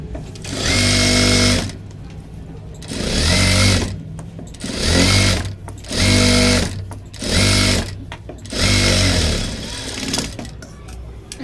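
Sewing machine stitching a dart on a blouse, running in six loud close bursts of fast mechanical whirring separated by short pauses, with no voices over it.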